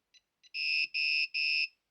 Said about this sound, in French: ça fait un effet de bip sonore d'erreur